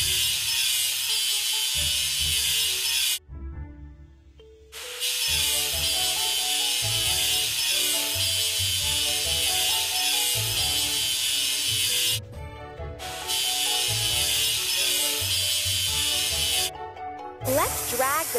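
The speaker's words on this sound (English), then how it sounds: "Let's drag the sander to the seam to make the surface even." Harsh, continuous electronic grinding of a sander smoothing a ship seam in a video game, stopping briefly twice, layered over looping game music.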